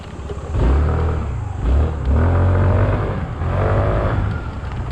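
A 2021 SYM Symphony ST 200 scooter engine revving up in several loud, close bursts, rising and falling as the throttle opens and eases.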